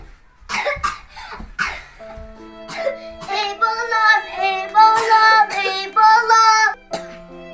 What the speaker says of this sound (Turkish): öksürmeye başladı